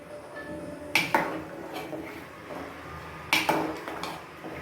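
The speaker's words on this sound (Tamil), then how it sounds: "கிண்டி விட்டுக்கலாம்" A metal spoon scrapes and clinks against a pot of tamarind curry twice, with quieter stirring scrapes between, close up and with no talking.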